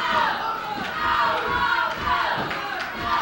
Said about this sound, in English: Go, Rob, go, they're screaming.